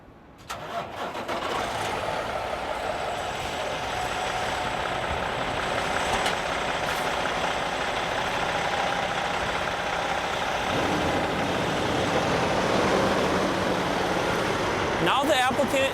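A truck engine runs steadily through a CDL backing exercise in an alley, a continuous mid-range drone with a slight rise in rumble partway through, while a voice talks over it.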